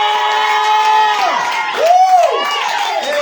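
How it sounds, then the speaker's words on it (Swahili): A church congregation bursts into cheering and high wavering ululation at a prayer gathering, several voices trilling loudly and close together for a few seconds. "1 2 3 shangwe na vigelegele"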